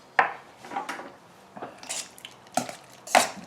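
A utensil scrapes and clinks against a pan while herbs are stirred into merguez chicken and sausage, in a handful of separate close knocks and rubs with short gaps between them.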